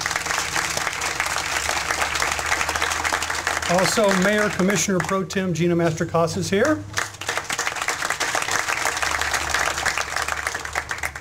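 Audience applause for the mayor at a senior recreation center groundbreaking, a steady broad patter of many hands running through the whole stretch, with someone speaking over it partway through.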